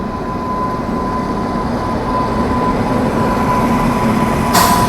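Inside the New Delhi–Howrah Duronto Express as it pulls out of the station, a loud, steady rail rumble builds gradually under a faint whining hum, with a brief hiss near the end.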